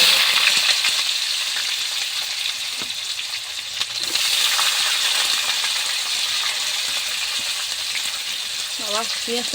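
Onion pieces fry in hot oil with red chilli and bay leaf, making a constant near hiss and sizzle with faint scraping and a few light metallic clinks toward the end.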